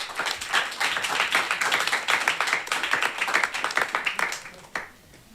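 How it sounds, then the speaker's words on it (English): A small audience at a kids' reality show event gives a brisk round of applause, dense close clapping lasting about five seconds before stopping abruptly, with voices mixed in. "Please, a round of applause."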